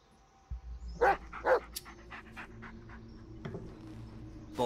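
The dog companion in the Blair Witch horror video game pants and huffs in a few short, breathy bursts close by, over a quiet low ambient drone.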